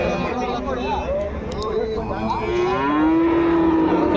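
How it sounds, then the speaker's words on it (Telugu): A Holstein calf at a cattle calf market gives long, drawn-out moos, close and loud, with a faint murmur of people around. "ఇక్కడ మనకు హోలిస్టన్ బ్రీడ్ దూడ అయితే ఉంది."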